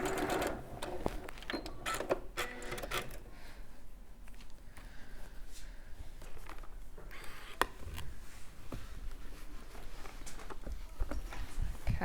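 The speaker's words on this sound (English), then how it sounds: "And again, sew that with your 1/4 inch." A sewing machine stitches a quarter-inch seam on a quilt block, a steady fairly quiet mechanical whir with a soft rhythmic patter running throughout, under faint background noise.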